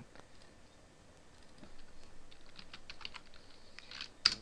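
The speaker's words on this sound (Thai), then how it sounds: "ลองพิมพ์จุดดูนะมันจะพิมพ์ไม่ได้นะครับ" Keystrokes on a computer keyboard, soft and sparse at first and then growing into a quicker run of close taps, ending in one sharper keypress, with no voices.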